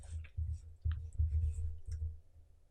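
Quiet keyboard keystrokes come in short bursts of soft clicks as code is typed on a computer, with brief pauses between clusters of keys.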